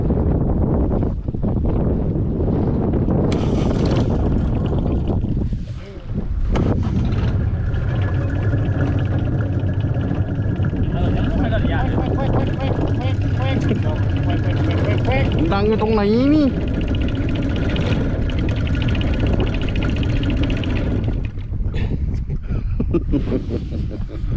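A fishing boat engine drones steadily and loudly under heavy wind buffeting at sea off Trang, Thailand, with brief vocal-like warbles partway through and a short dip in the noise.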